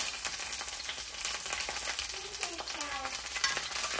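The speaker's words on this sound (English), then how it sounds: "we're gonna take a tablespoon of fresh ghee. We're gonna add in our asparagus" Asparagus sizzles and crackles steadily in a tablespoon of fresh ghee, close up and moderately loud, with scattered pops and a faint utensil stirring through the pan and no voices.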